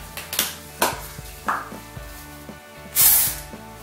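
A can of dry shampoo hisses in a short, close burst onto hair, preceded by light taps and clicks of handling.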